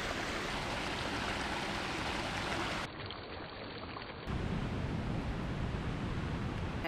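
A small waterfall flows in a steady, rushing wash of water, continuous and fairly close, with no voices; the level dips briefly midway before returning.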